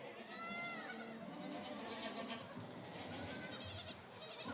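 Several young goats in Corsica bleat over one another in a constant, noisy chorus, close by and fairly loud.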